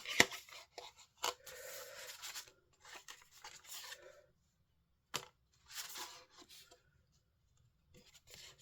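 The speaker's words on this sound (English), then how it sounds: "I thought I'll just cut the outer because it looks like a leaf" Paper being cut by hand around the outer edge of a leaf-shaped die cut backing, with scissor-like snips and rustling, rubbing scrapes in bursts separated by quiet pauses, close up and with no talking.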